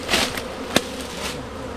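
Bees swarm around a hive and a nearby tree, a close, continuous buzzing with wings whizzing past and one sharp brief knock partway through.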